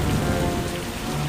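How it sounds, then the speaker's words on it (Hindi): Heavy rain pours steadily in a strong storm fierce enough to snap banyan branches, a dense, loud wash with no pauses and a faint low rumble beneath. "आंधी तूफान इतनी तेज था कि बरगद की कुछ शाखाएं टूटने लगती हैं"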